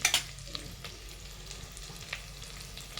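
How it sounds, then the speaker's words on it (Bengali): Cashews and raisins frying in homemade ghee in a pan: a soft, steady sizzle and crackle throughout, with a brief louder clatter of stirring at the start and a few scattered pops after it. "কাজু কিশমিশ ভাজা হচ্ছে আর এটা পুরো বাড়ির তৈরি ঘি বলে স্মেলটাও খুব সুন্দর আসছে"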